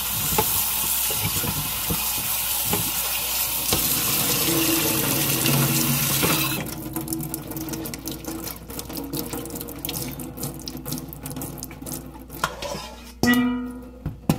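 Water from a tap runs strongly onto sliced potatoes in a sink for about six seconds, then stops, leaving scattered splashes, drips and clatter as the potatoes are handled.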